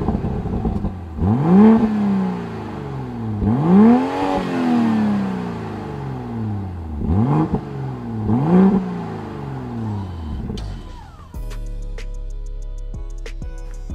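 A 2022 BMW 2 Series Coupé six-cylinder engine revs hard four times, each a loud rising and falling sweep close by, before the sound cuts to a steadier tone at the end.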